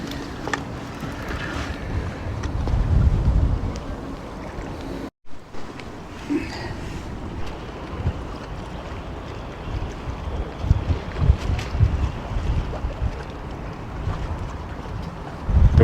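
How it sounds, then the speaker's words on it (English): Strong wind buffets the microphone beside Newhaven Harbour on the Firth of Forth near Edinburgh, a continuous roaring rush with gusty low thumps and a brief dropout partway through. "The wind is really blowing across here."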